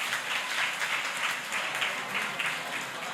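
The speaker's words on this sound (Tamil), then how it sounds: "கைத்தட்டலாமே" Applause from the audience at a primary school annual day in Alivalam, a soft, distant patter of clapping rising and falling in waves, with no speech over it.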